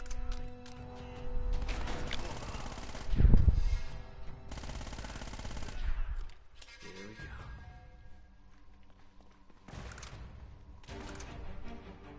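Scattered gunfire bursts in Uncharted: Drake's Fortune, moderately loud, broken by gaps and mixed with game effects and music, with a voice talking at times.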